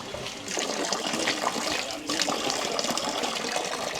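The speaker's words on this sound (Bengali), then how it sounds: "এই যে জলটা বেরোচ্ছে না, এটা হচ্ছে মেডিসিনাল ড্রিঙ্কিং ওয়াটার" Medicinal drinking water pours out of a spring outlet at Cherrapunji in a continuous rushing, splashing stream, close and fairly loud, steady throughout with no break.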